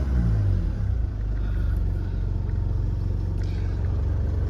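Jaguar XE 2.0d diesel saloon, a 65-reg automatic, idling steadily with a low, even engine rumble close by and no voices.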